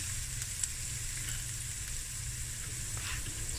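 Turmeric and masala spices sizzle steadily in hot oil for a sardine and mussel dish, a close, continuous hiss with a brief sharp crackle near the start and no voices.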